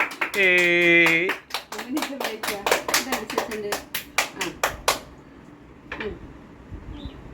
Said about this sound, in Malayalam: കൈയടിക്കൂ കൈയടിച്ച് പാസ്സാക്കൂ